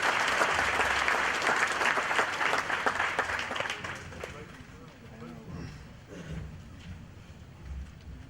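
A crowd applauding at a language training college graduation ceremony, dense loud clapping that thins out and fades over several seconds, with a few voices and shuffling underneath as it dies away.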